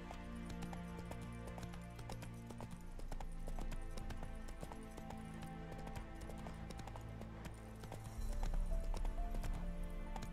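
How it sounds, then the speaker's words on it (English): Horse hooves clip-clop steadily at a trot in The Witcher 3 video game, a rhythmic clatter layered over continuous game music, with occasional neighs and no talking. "Whoa there, Roach."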